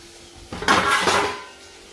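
A metal plate used to cover a wok clatters and rings once against cookware, a loud close crash that fades out over about a second.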